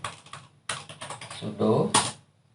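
Clicky keystrokes on a computer keyboard while entering a terminal command during a Kali Linux install to a flash drive, a few quick bursts of taps close by, with speech mixed in between.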